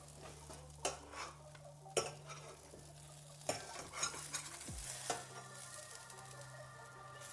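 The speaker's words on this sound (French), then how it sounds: "On va bien laisser griller." A quesadilla of two tortillas grilling in a frying pan, giving a soft steady sizzle broken by a few spatula taps and scrapes against the pan.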